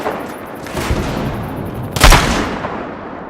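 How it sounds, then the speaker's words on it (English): Gunfire in the video game Battlefield, including sniper rifle shots: dense crackling shots and a loud sharp blast about midway, with a rumbling tail that fades out. "Fucking sniper!"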